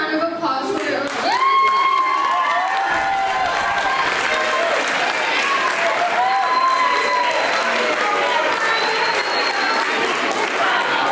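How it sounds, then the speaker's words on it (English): A school audience at a student awards show applauds and cheers throughout, a dense, loud wall of clapping with shouts and whoops rising over it and some voices mixed in. "please give a round of applause for your"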